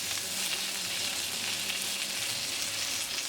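Curry leaves crackle and sizzle in hot oil with mustard seeds and green chillies, a continuous close spitting hiss that stays loud and even throughout, with nobody talking.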